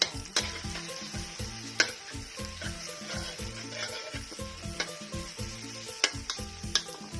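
Spice paste dry-roasting in a pan over medium heat for a northern Thai Chiang Khong-style salad, giving a soft, steady sizzle with occasional stirring scrapes and clicks, fairly faint beneath rhythmic background music.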